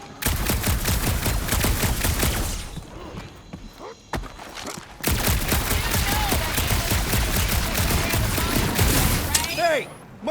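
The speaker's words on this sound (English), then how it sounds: "Hey, my shooting's not aimless." Rapid gunfire crackles in Marvel's Guardians of the Galaxy, loud sustained bursts filling most of the stretch, broken by a short lull with scattered single shots, then resuming, with zapping sci-fi effects near the end.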